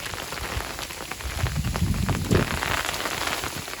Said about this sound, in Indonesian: Hujan es guys, lihat. Hujan es.